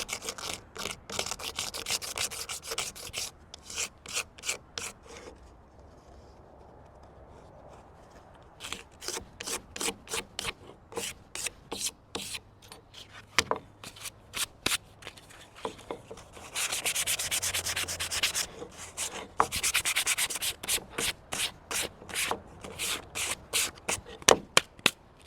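Sandpaper rubs rapidly back and forth across an oil painting panel in close, loud rhythmic strokes, broken by a quieter pause before the scratchy scrubbing resumes in steady bursts.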